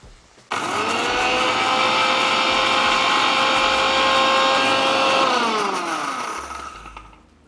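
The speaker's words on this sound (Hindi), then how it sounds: "जब तक ये प्याज भूनता है हम सौंफ को पीस लेते हैं।" A mixer grinder pulverising fennel seeds runs loud and steady for several seconds with a high whirring motor whine, then winds down and fades out.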